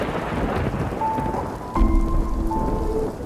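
Steady rain pours down with a thunderclap cracking in about halfway through, followed by a deep rolling rumble under the continuing downpour.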